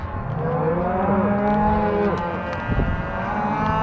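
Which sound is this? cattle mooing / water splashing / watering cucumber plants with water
cattle mooing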